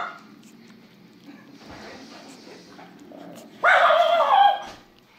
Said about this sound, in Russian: Прекрати гавкать.